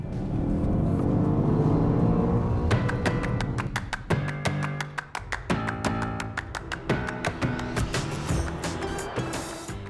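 Engine of a 2020 BMW X5 M Competition SUV, a loud rising rev that builds and then drops away, followed by a run of sharp pops and crackles from the exhaust.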